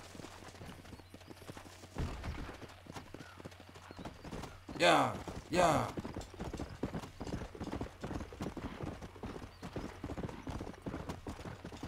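A horse's hooves clip-clop in the Red Dead Redemption video game, steady and close, with a sharp whinny in the middle and someone talking over it.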